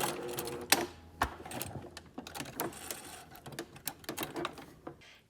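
Sewing machine finishing a backstitch where two fabric layers end on a spaghetti-strap tube: a close, rapid mechanical clatter of stitching with brief pauses and sharper ticks as it reverses.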